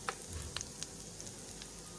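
Garlic frying in a pan until just golden gives a soft, steady sizzle with faint crackles and small pops, quiet and close, with no talk.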